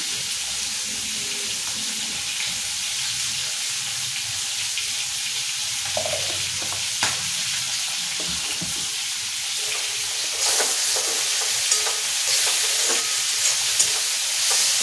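Grated bottle gourd with poppy seed frying in a pan, a continuous steady sizzle with occasional stirring scrapes and light clinks, close and loud throughout with no talking.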